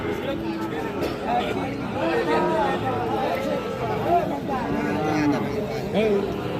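Cattle at a livestock market being fed grass, with Sahiwal bull calves on sale: a crowd chatters throughout, with low lowing and animal sounds mixed into the steady hubbub.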